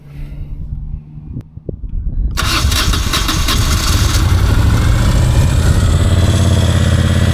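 A 2001 Moto Guzzi EV80 Anniversary motorcycle engine cranks from cold and catches after a few clicks, then settles into a loud, steady, close-up idle, running high.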